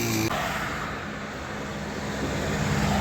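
Road traffic rolls past a bus stop in a steady wash of car and engine noise, a vehicle swelling slightly nearer toward the end, with no talk.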